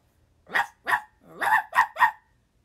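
A dog barks five times close by, two separate barks followed by a quicker run of three, then silence.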